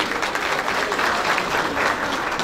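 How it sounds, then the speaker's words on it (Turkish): An audience at a Turkish workshop conference applauds to welcome a panel moderator, a dense, steady roar of clapping that holds at an even level throughout. "Alkışlarınızla onu davet ediyorum"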